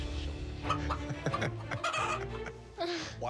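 A live chicken clucks nearby in a kitchen cooking competition setting, giving several short, irregular clucks and squawks with brief background voices and murmurs.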